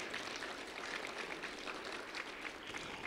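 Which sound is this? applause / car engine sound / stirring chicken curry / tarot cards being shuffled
applause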